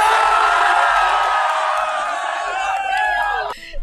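A large crowd cheering and shouting together in a loud, dense wash of voices that stays steady, then thins out near the end.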